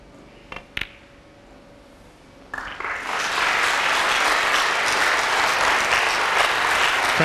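A snooker crowd bursts into applause during a 147 maximum break at the Welsh Open, after a few isolated claps and near silence, then swelling into sustained, loud clapping.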